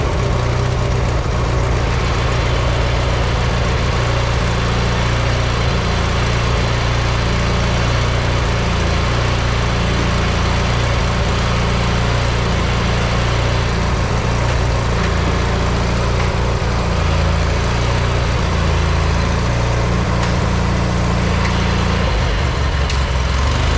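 A John Deere 116 riding mower's engine runs steadily after a jump start, a loud, close, continuous low rumble with a pulsing idle throughout and no talking.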